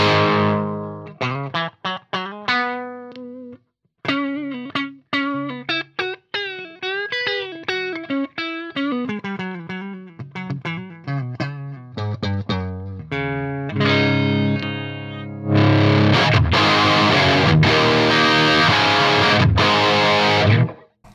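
Electric guitar played through a plexi-style amp model on a Line 6 Helix LT, with loud, distorted single-note runs and riffs followed by ringing, heavily driven chords, with no talking.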